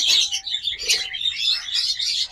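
Pet birds in a breeding pair offered for sale chirp and tweet continuously at close range, with bright overlapping calls and no talk.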